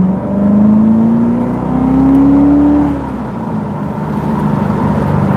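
A Chevrolet Corvette C7 Z06 engine accelerates hard in first gear, a loud, close drone whose pitch climbs steadily for a few seconds, then drops back into a sustained lower roar.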